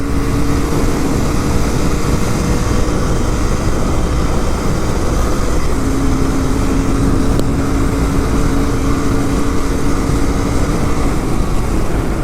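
A Royal Enfield GT 650 motorcycle running on E20 petrol gives a loud, unbroken engine drone. Heavy rushing noise, like riding at speed, surrounds it throughout, with no talking.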